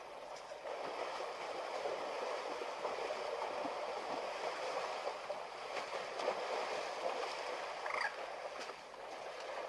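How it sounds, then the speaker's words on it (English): Outdoors in Africa, an elephant drinks from a small undisturbed puddle. Faint, continuous water sloshing and trickling carries through a quiet ambience with no talking. "this elephant on the extreme left found a little puddle that is undisturbed and it's been drinking water from that puddle"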